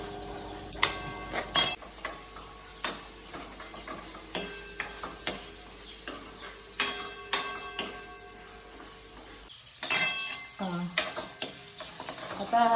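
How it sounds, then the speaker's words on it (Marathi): Ginger, garlic and chili masala frying in oil for a Maharashtrian fish curry, with a steady sizzle broken by repeated sharp clinks and scrapes of a spoon stirring against the pot, close and fairly loud, no talking. "तेल असं निघायला लागलं का नंतर हे टाकायचं अद्रक लसूण मिरची"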